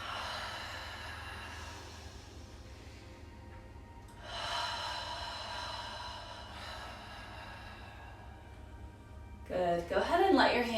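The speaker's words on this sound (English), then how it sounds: "A few more deep breaths" Slow, deep breaths during a yoga session come as long airy inhales and exhales over a low hum, ending in a louder rush of breath.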